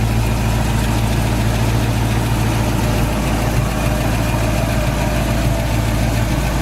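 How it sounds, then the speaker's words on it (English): A 1967 Ford Mustang's original Ford 289 V8, fitted with new plugs and cap and stock manifolds, idles steadily and evenly up close, a continuous low rumble with no talk over it. "Motor seems to run great with new plugs, new cap, stock manifolds"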